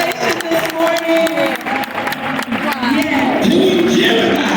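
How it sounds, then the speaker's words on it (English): An audience applauds for Dr. Bryant at a church gathering, loud claps and crowd noise mixed with voices calling out over the top. "Will you guys give a round of applause for Dr. Bryant?"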